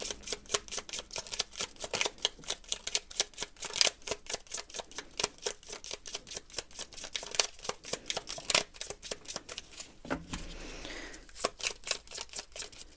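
A deck of tarot cards being shuffled close up in quick rhythmic riffles, dozens of crisp flicks in a row with a brief rustling pause near the end, no voices.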